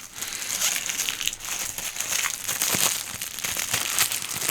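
Double-wrapped AliExpress mail package being pulled open, dense close-up crinkling and crushing of plastic packaging throughout, continuous and fairly loud.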